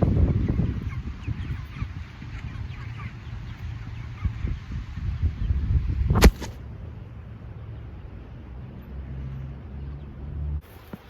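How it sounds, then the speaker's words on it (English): Chickens cluck and honk in a busy outdoor flock, with a sharp bang midway and wind rumbling underneath. "The chickens are ready for breakfast"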